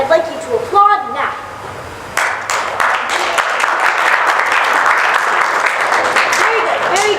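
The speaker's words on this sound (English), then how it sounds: "Everyone who believes the defendant is guilty, I'd like you to applaud now." Theatre audience at a musical bursts into sustained applause after a mock courtroom call to vote the defendant guilty; dense clapping fills the room from a couple of seconds in, following brief voices at the start.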